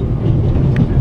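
Steady low rumble of a train rolling along rails in The Raven Remastered, a loud continuous drone with a faint clack, no talking.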